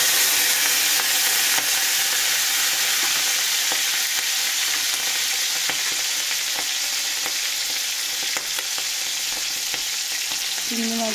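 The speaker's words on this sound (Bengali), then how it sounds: "চিংড়ি মাছগুলো ভালোভাবে ভাজা হয়ে গেছে" Prawns fry in a hot pan of oil with chilli, giving a loud, continuous sizzle and crackle throughout, with faint stirring scrapes and no speech.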